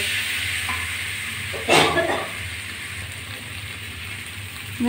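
Water poured into potatoes frying in a pan, a brief loud hissing sizzle burst that then settles into a steady, quieter frying crackle.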